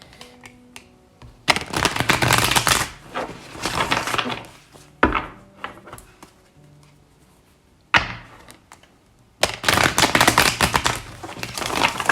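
Tarot cards are shuffled in fast riffling bursts, with crisp slaps and flicks as cards are pulled, coming in three main flurries separated by brief pauses and single sharp taps, close and loud with no talking.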